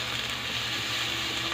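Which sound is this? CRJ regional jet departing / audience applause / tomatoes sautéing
tomatoes sautéing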